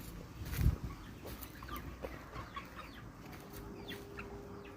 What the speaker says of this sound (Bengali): বিশাল বড় পোলট্রি মুরগির খামার।